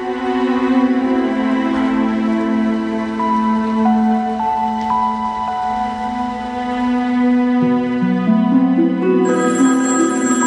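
A telephone ringtone plays for the whole stretch, loud and continuous with a steady melodic electronic tone that shifts pitch near the end, with no talking over it.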